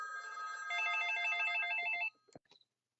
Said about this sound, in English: The phone rang right in the middle of me videotaping.